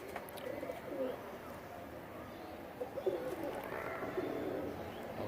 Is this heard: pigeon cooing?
yes